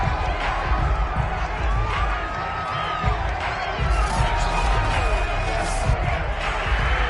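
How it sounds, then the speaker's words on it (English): A football stadium crowd roars and shouts continuously while a replay plays, a dense wall of cheering and yelling with scattered whoops rising above it. "Plenty of shouts from this crowd as they watch the replay."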